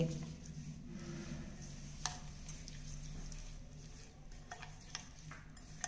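Ghee and cane sugar stirred together in a bowl while making coconut cookies: a steady, soft scraping and mixing texture that runs throughout, with a few light taps of the utensil against the bowl.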